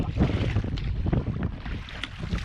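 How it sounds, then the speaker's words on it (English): Strong wind buffets the microphone while sea swell churns around a sea kayak off Kangaroo Island, a loud, continuous roar with gusty surges and no voices. "Fighting wind and swell and things."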